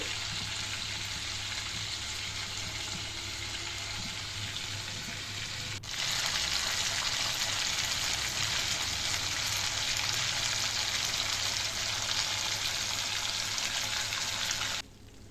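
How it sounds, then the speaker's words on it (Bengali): Marinated hilsa fish frying in hot oil for hilsa pulao, a steady broadband sizzle that grows louder after a few seconds as more fish goes in, then drops slightly at the end, with no talking. "ইলিশ মাছটা আমি ভেজে নিচ্ছি"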